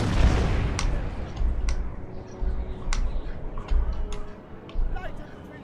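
Artillery cannons fire in Napoleon: Total War during a Peninsula War battle, a series of low booms and distant cracks recurring about every second, heavy rumbling under someone talking throughout.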